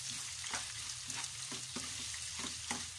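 Garlic frying in a pan for Filipino spaghetti, a continuous close sizzle with soft crackling and recurring stirring scrapes, no talking.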